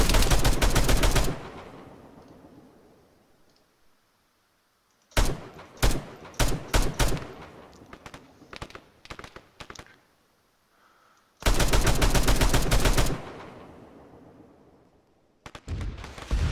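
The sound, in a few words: machine gun fire in the video game Arma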